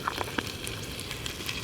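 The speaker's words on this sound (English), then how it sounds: "They start sizzling away." Gentle sizzling and light crackling of whole spices, including cardamom pods, frying in hot oil in a large Trangia billy pot outdoors, quiet and steady with a few soft pops.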